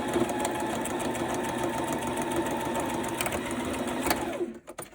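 A sewing machine runs a fast, steady zigzag stitch along a fabric edge on a Christmas pocket project, close and continuous, then stops abruptly near the end.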